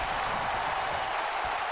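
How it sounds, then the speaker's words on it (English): Wrestling crowd at a GWF event cheering wildly, a dense, steady roar of voices and applause filling the space without letup. "this crowd is going absolutely banana"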